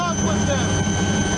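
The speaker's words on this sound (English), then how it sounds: "A lone helicopter flies over floodwaters near a river in Mozambique." An Indian Navy helicopter flies over floodwaters near a river in Mozambique after Cyclone Idai, a steady engine and rotor drone heard under a narrating voice.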